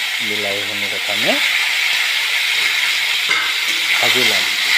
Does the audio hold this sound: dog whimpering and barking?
no